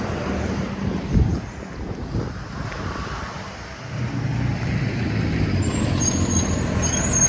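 A school bus rumbles past nearby on a Bed-Stuy, Brooklyn street corner, its low engine roar swelling and lingering amid wind noise on the microphone.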